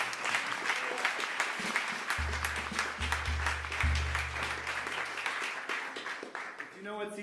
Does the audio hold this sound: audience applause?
yes